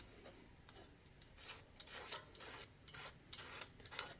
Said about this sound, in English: I'm just going to take a razor blade, gently scrape off any debris, anything that's stuck